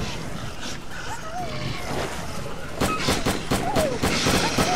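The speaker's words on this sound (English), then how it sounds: "shooting whom? Is it friendly shooting?" Gunfire in the game Lost Alpha near a bridge, a busy burst of shots and clattering reports building toward the end over a constant ambient bed, with no talk.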